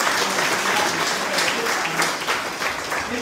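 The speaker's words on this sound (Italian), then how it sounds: "quindi un applauso a loro." A crowd at a youth excellence awards ceremony in Pomigliano d'Arco applauds a group of young researchers, a dense, fairly loud round of clapping that holds steady, with a faint murmur of voices beneath.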